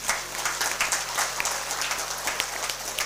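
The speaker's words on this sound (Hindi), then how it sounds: "उनको एक बार तालियां बजाना चाहता हूँ" A church congregation at a priest ordination applauds the young children who served, a fairly faint but steady patter of many hands clapping together, continuous and without talk.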